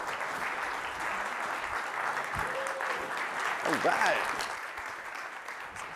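An audience at a baking presentation applauds for a host, steady sustained clapping throughout, with a few words spoken over the clapping.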